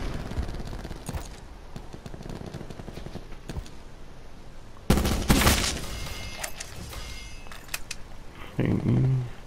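Shots ring out in the Black Ops IV game as scattered single cracks, then a loud sustained burst of fire near the middle and another short burst at the end, with background game noise throughout.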